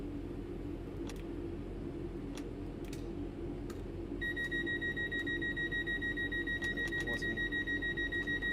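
Train doors close with a repeating two-tone warning beep in Train Sim World 3 on the Glossop Line near Manchester, a steady pulsing chime that starts midway over a low engine hum with a few faint clicks.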